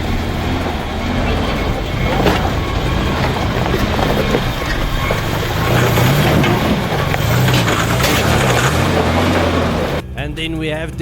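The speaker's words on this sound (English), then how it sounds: "Dion appreciating the powerful engine of his Jeep carrying that heavy overlanding rig up this mountain" Jeep engine labouring steadily as it hauls a heavy overlanding rig up a mountain track on a 4x4 trail at Rust de Winter, a loud continuous drone with shifting rumble that cuts off abruptly near the end.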